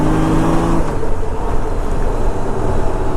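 A 1500cc Honda Goldwing motorcycle engine drones loudly and steadily at speed, its pitch shifting early on, with heavy wind rush filling the sound throughout.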